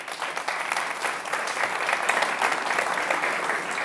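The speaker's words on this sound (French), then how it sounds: "Je vous demande de l'applaudir." A studio audience at a Christmas special TV show applauds the guest Günther, steady close clapping that builds slightly and holds for a few seconds with no talk over it.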